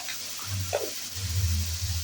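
Bitter greens frying with onion in a pan, a steady sizzle with stirring scrapes and a low hum underneath, close and moderately loud, no speech.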